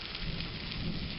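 Steady rain falls outside a cave, a dense, faint hiss with low rumbling like distant thunder underneath, no voices.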